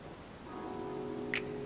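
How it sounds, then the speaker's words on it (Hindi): Rain splashing by a window in an audio drama, a soft continuous patter under a faint tonal music bed, with one brief brighter splash near the end. "वो खिड़की के पास खड़ी थी और बारिश के छींटे उसके कपड़ों को गीला कर रहे थे"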